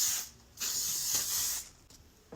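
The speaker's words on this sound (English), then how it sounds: "It's just like a continuous spray." Aerosol makeup setting spray misted onto a face in two continuous hissing bursts, each lasting about half a second to a second, close and clear, with quiet gaps between them.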